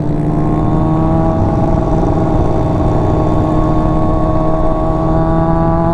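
A motorcycle engine drones loud and sustained at high revs, holding a steady buzzing pitch against the rev limiter, with no voices over it.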